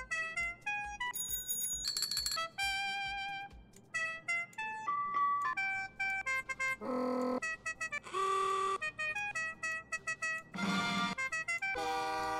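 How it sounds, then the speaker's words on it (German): Car horns in the racing video game Need for Speed Unbound, cycled through many tones and melodies in short bursts and longer blasts, clear and close with no talk. "Ich ödel hier an den Hupen rum"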